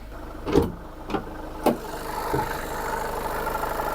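A car with keyless access is started after a brief glow-plug warm-up, then settles into a steady idle; a few short thumps and clicks stand out early over the continuous low engine hum.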